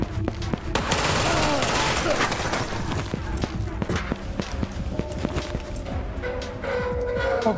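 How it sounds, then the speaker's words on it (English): Gunfire from a P90 in the shooter video game Ghosts of Tabor: dense, rapid bursts and scattered sharp shots packed into a loud, continuous barrage, with voices talking underneath. "P90. Expensive gun with a lot of bullets."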